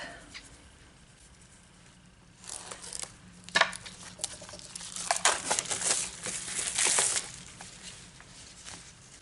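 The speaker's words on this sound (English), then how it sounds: "Grab some scissors to open this up." Crinkling plastic and scissor snips, close and moderately loud, as a card kit's plastic packaging is cut and handled for several seconds after a quiet start.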